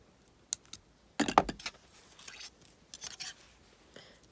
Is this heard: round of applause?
no